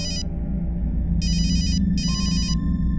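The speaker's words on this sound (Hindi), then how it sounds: "फोन की घंटी बजती थी" A telephone rings in bursts inside a home during a Hindi crime drama scene, with a short ring, a pause, then two longer rings over a steady low background hum.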